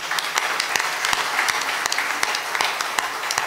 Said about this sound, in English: Give him a better clap in Jesus' name.